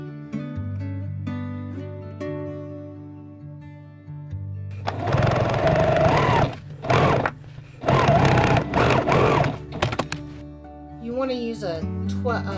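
A sewing machine quilting burp cloths with a heavyweight denim needle and 12 weight thread runs in loud, whirring bursts of a second or two, separated by brief pauses, after a stretch of talking.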